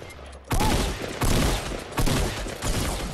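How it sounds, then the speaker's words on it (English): Bursts of gunfire from teammates in a Fortnite 50 vs 50 battle royale match, loud and close, coming in three heavy volleys of rapid shots about a second apart. "our team is shooting"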